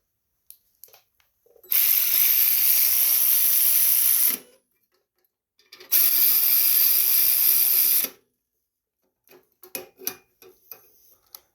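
A ratchet tightens carburetor screws on a Briggs & Stratton engine fitted to a Craftsman 5.5 hp front-tine garden tiller. Two sustained, close ratcheting bursts are heard, followed by a few light scattered clicks, with no talking.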